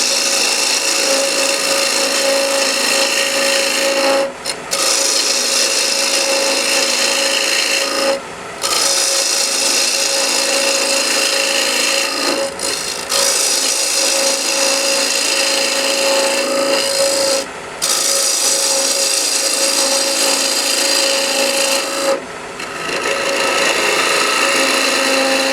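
A wood lathe thread chasing, the chaser taking even slices from a center hole: a continuous, loud rasping scrape with a steady hum, broken by several short pauses between cuts.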